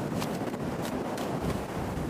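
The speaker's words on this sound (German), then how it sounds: "der Wind bläst aber ganz schön" Steady, loud wind rushes past while gliding through the sky in the survival video game Sons of the Forest, a constant broadband roar with faint gusty swells and no talking.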